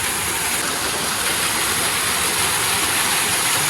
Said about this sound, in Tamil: இதுதான் பெரிய வாட்டர் ஃபால்ஸ்.